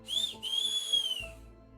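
Someone whistles out in a corridor, two clear high sustained notes separated by a brief break, heard fairly close and alone.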